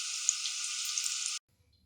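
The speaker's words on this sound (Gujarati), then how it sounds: "આ રીતે બધા જ બટેકાને આપણે થોડા ઉપરથી છાલનો કલર ચેન્જ થાય ત્યાં સુધી આપણે ગરમ તેલમાં ફ્રાય કરી લઈશું" Potatoes fry in hot oil with a steady, bright sizzle close up, lasting just over a second before cutting off abruptly to near silence.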